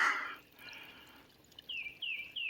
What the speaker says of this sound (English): it's dripping down from right in there